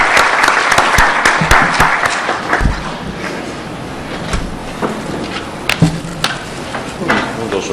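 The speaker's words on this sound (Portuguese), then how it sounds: "Uma salva de palmas aos coordenadores." An audience at a tax litigation debate panel applauds the coordinators, a loud, dense round of clapping that holds steady and then thins out, with scattered sharper claps and knocks near the end.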